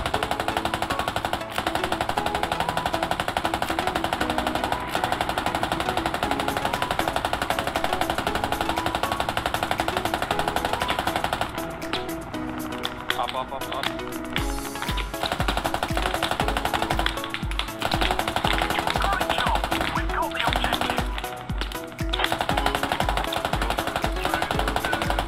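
Rapid bursts of door-gunner machine gun fire from a helicopter in the video game Squad, a steady rattling stream that runs long, breaks off, then returns in quick repeated volleys over constant rotor and engine noise.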